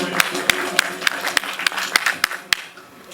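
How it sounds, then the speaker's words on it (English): A theatre play audience gives a brief round of applause, sharp separate claps in a quick uneven rhythm over a murmuring room, fading toward the end. "A thunderous round of applause for our warning."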